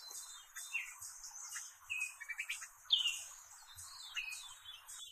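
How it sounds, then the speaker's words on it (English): Male orioles call at a beaver pond in late spring, with a busy run of clear whistles and chatters, some close and loud, set against a soft background of other birdsong. "Male orioles are still sorting out some issues."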